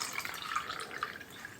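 Water poured from a 200 ml measuring cup onto apples in a pot while making thick apple jam, a brief light splashing and dripping trickle close by with no talking.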